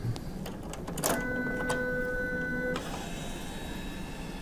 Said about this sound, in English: After the cardstock is loaded, we can lock the printer.